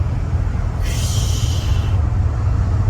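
A sharp hiss from a supercharger blow-off valve venting bursts out for about a second over a steady low engine rumble from a supercharged C5 Corvette, then cuts off.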